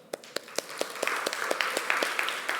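A church congregation claps for a birthday during a service: a sparse run of individual hand claps that thickens into light, moderately close applause.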